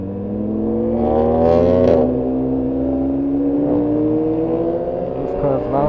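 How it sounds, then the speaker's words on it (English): Loud engine of an S1000RR sport motorcycle, heard from the helmet, droning steadily with a gradually rising pitch over several seconds, with rumbling wind noise and no clear speech on top. "This car is loud."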